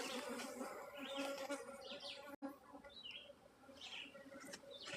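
Honeybees buzzing steadily in a bee yard, a dense layered hum of many insects close by, with a few faint bird chirps in the background.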